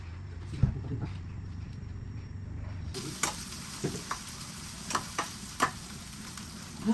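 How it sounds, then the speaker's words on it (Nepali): Soft sizzling and bubbling from gundruk, fermented leafy greens, simmering in a pot on the heat, steady and close, with occasional light taps and clinks. "गुन्द्रुक उम्लिँदैछ"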